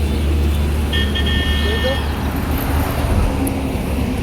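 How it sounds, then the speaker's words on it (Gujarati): Highway traffic near Thara rushes past in a steady broadband roar, with a brief horn toot partway through and people talking over the road noise. "તો આ સામે ગાડીઓ આવે છે હાઈવે પર"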